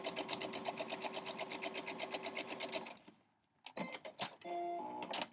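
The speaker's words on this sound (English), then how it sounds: "And then sew 1/4 inch seam allowance." Sewing machine stitching a quarter-inch seam on quilt block pieces: a steady fast mechanical chatter for about three seconds, then a pause and a few short clunks and whirs as the machine stops and is adjusted.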